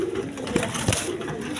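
A pair of red-checker Deshi Rajgolla pigeons give a couple of soft, low coos close by over a quiet background hiss.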